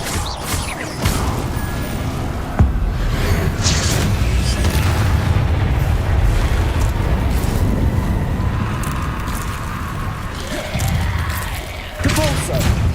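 Expelliarmus spell cast in the video game Hogwarts Legacy: a dense, loud magical burst with booming impacts and whooshing effects over busy game sound, with a sharp hit near the start.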